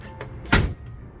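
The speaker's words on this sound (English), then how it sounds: "This is how the door closes." A car door on a 1959 Cadillac Coupe Deville swings shut and catches on its weather strip, giving one dull, fairly loud thud after a light earlier click, alone with no talk.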